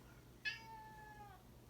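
A single cat meow, fairly faint and about a second long, sounds once over a low steady background hum.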